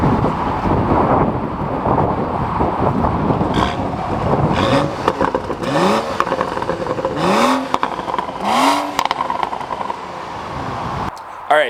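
BMW M235i with its factory catted downpipe and a resonator delete, the engine revving hard through several climbing pulls under loud wind buffeting, the exhaust note rising and falling as it accelerates past.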